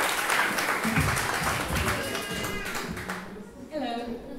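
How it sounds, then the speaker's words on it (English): Audience at a summer camp finale event applauding and cheering loudly right after a call for a cheer, dense clapping and voices that fade toward the end as a single speaker begins. "Can we give a cheer?"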